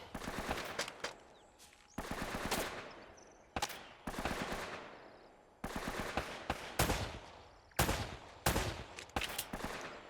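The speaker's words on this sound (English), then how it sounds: "I'm trying to snipe them here with my handgun" Handgun fire in Uncharted: Drake's Fortune, a run of sharp, loud shots and short bursts cracking out in clusters over about ten seconds, with the echoing gunfire of a firefight and no talk.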